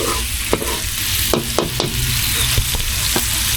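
Butter sizzling and frying in a large wok, a steady close hiss throughout, broken by a few sharp clicks of a utensil against the metal.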